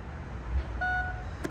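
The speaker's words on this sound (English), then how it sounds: "That beep is to say that this is the new position for this tailgate" A 2023–2024 Mercedes GLE sounds a single short electronic beep as a new tailgate opening height is stored. The beep is faint and steady over quiet background hiss.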